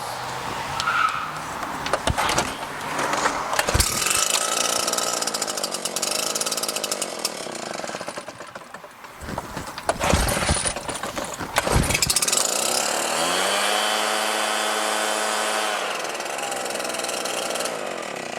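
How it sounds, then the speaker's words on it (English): A Husqvarna 580 gas backpack leaf blower roars continuously up close, its engine droning loud and steady, dipping briefly before revving back up to a high whine. "a Husqvarna 580 backpack blower, the same one that I use"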